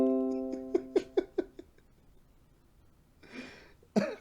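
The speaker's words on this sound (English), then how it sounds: "I'm really lightheaded from all the coughing now." A short run of rapid hacking coughs, then a pause, a breathy rasp and one more cough, close and fairly loud.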